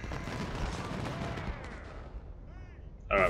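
Cannon and rifle fire from a Civil War battle in the Ultimate General: Civil War video game sound as a dense, rumbling barrage that fades away, then a sharp close burst erupts at the end.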